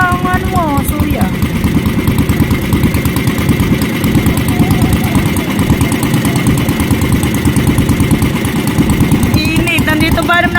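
Engine exhaust roaring close up on a boat trip along a river, a loud, steady rapid chugging rumble that runs the whole time with brief faint voices underneath.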